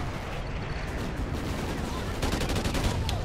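Gunfire in the video game Call of Duty Ghosts, a dense ongoing fusillade of shots with bursts of rapid fire near the end.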